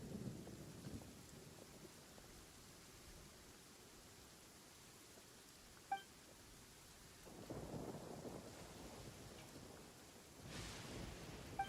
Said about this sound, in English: Ah, so the thunder we heard was you!